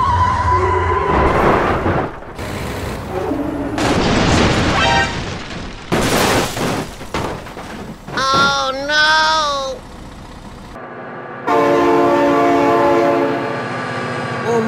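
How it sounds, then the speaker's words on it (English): In the BeamNG.drive driving game, a train blasts its horn in long tonal wails and rumbles past loudly amid crashes and engine noise, with excited voices in between. "Oh my God, train!"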